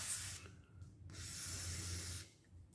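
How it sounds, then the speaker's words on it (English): 3-In-One garage door lube sprays onto the joints of a garage door in two steady hissing bursts separated by a short pause, close to the microphone and with no talking. "So I'll spray it"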